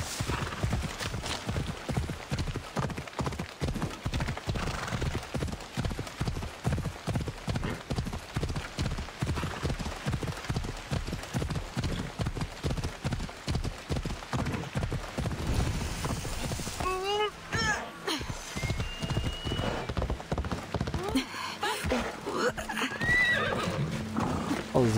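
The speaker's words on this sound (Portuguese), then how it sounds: "Um cavalo." Horse hooves clip-clop in a steady fast rhythm throughout, with a whinny later on, as a rider travels in the ancient Greek open-world game Assassin's Creed Odyssey; the sounds are fairly quiet and a voice speaks over them.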